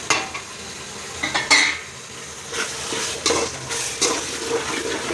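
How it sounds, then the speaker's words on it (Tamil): A spoon stirs turmeric, chili powder and garam masala into vegetable biryani gravy in a pot, with soft scraping, intermittent clinks against the metal and a faint background sizzle, close and fairly quiet, no talk. "மஞ்சத்தூள், மிளகாத்தூள், கரம் மசாலா கலந்துக்கலாம்."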